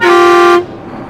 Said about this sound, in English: I will hit that air horn real quick